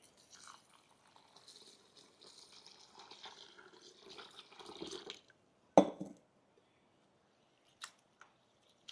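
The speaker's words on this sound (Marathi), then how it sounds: "आपण आता ते स्वच्छ पाण्याने धुवून घेऊ आणि भिजत टाकू 1 तासासाठी" One kilogram of basmati rice swished and rinsed in clean water, a soft wet sloshing for about five seconds, then a single sharp clack and a couple of faint ticks in near silence.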